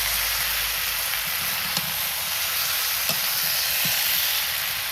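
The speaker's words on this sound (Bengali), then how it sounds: "চড়ি ঝালগুলো মাটনটা এখন ভালো করে কষাবো।" Mutton sautéing with spices in a pan, a constant dense sizzle with a few short scraping stirs spaced apart, close and moderately loud with no speech.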